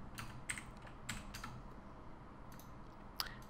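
Light keystrokes tap on a computer keyboard in short scattered bursts, quiet and close with a soft background hum.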